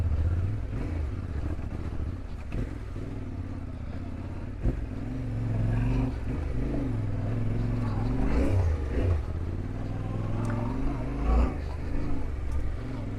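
A Yamaha T7 adventure motorcycle rolls along at low idle in second or third gear with no clutch, its steady engine drone continuous and close under wind, with a few brief clunks and light revs over about thirteen seconds.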